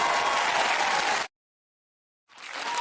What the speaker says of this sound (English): please give a round of applause one more time for Megan and Wes